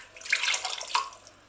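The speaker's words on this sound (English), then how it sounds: "I'm going to rinse the tins out about a third of the way with water. Add that water." Water sloshes and splashes as it is swirled in emptied tomato tins and poured into a chickpea and roasted squash curry, a short close burst of liquid rising and then fading.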